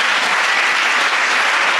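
A church congregation breaks into loud applause, a dense, steady burst of many hands clapping at once, close and sustained for a couple of seconds with no talk over it.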